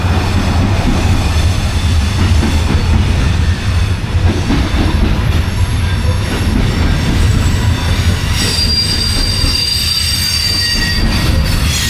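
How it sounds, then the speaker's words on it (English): A Norfolk Southern freight train rolls through the coal mining town of Keystone, West Virginia, a loud, steady rumble of railcars with squealing wheels running the whole time, and no voices. "It's nothing like a Norfolk Southern freight train running through a coal mine in town."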